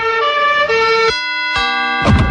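Police sirens from a comedy sketch sound as a loud, steady wail with shifting held tones and several abrupt changes in pitch, ending in a brief rough burst.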